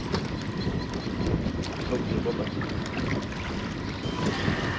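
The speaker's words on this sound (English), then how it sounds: "we got the wind kind of peppering in here. Stiff wind today" Stiff wind blowing over a lake during kayak fishing, a steady roar of wind noise with faint water sounds, close and continuous throughout.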